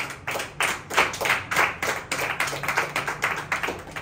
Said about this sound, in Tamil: கைத்தட்டி ஆண்டவர் மகிமைப்படுத்தும்